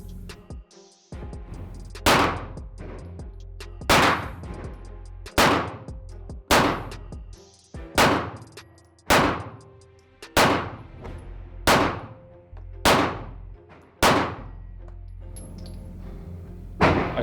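Ten pistol shots from a Laugo Arms Alien fired at a B8 target at an outdoor range, each a sharp loud crack with a short ringing tail, spaced evenly at a slow, deliberate pace of roughly one every one to two seconds, with no talking.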